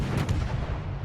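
Naval guns boom in World of Warships, a deep rumbling salvo close and heavy that rolls away quickly, with no talk over it.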